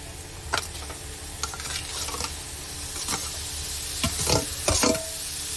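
Mashed paneer stirred into a cooked onion and tomato mixture in a pan for paneer bhurji, a steady low sizzle with scraping spoon strokes and a few louder clacks near the end, no voices.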